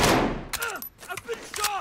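Gunfire in the video game Warzone: a few sharp shots cracking out in quick succession over a couple of seconds, mixed with in-game voices.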